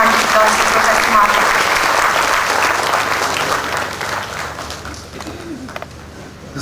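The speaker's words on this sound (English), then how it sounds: "Can we have a huge round of applause for Professor Marc?" Lecture audience applauding a professor as he is welcomed to the dais, a loud sustained clatter of many hands that slowly thins out and fades, with some bird cooing nearby.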